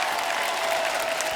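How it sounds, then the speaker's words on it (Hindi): Studio audience applauding guests on The Kapil Sharma Show, a dense, steady wash of clapping at full strength throughout the short burst. "एक बार जोरदार तालियां हमारे मेहमानों के लिए हो जाए"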